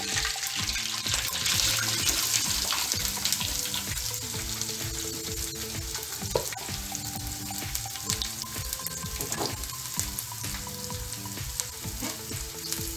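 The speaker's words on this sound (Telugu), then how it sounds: "ఇప్పుడు కాకరకాయ ముక్కలు వేసుకుందాం." Bitter gourd pieces fry in a pan with curry leaves, giving a steady, close, loud sizzle with bubbling oil and occasional stirring scrapes throughout, and no talking.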